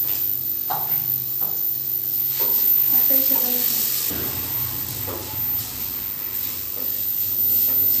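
Ground ginger-garlic paste hits a hot frying pan, setting off a steady hissing sizzle that flares into a louder, sharper burst partway through, then settles back to a busy crackle.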